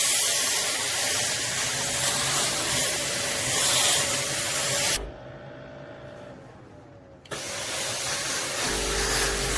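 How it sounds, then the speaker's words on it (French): Suction pump of a Laurastar S Pure ironing system, a steady broadband whooshing drone that drops out for about two seconds and then resumes, close and continuous with no talking. "Alors le bruit de la pompe aussi d'aspiration, on l'entend un petit peu."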